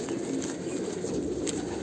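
Andhra pigeons coo softly inside a cage, a brief close murmur of low repeated coos with no voices over it.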